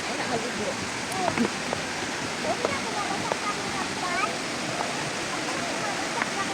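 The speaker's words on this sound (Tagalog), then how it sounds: "Yan ang pinagmalaki ng Iligan City, ang waterfalls, Tinago Waterfalls." Tinago Falls in Iligan City, a constant dense roar of falling water that stays steady and close, with faint bird chirps above it.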